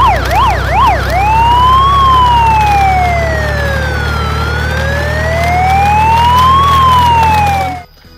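A toy ambulance siren wails up and down rapidly at first, then shifts into slow rising and falling sweeps, loud and close over a constant electronic hum before it cuts off abruptly.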